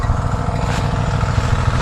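Small irrigation water pump engine running in a field, a close, loud, steady mechanical chugging with a rapid even pulse that holds constant throughout.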